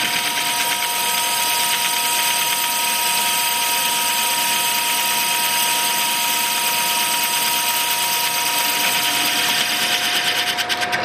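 A lathe on power feed faces a wheel, giving off a loud, steady machining whir with a metallic hiss that holds unbroken throughout, with no voices.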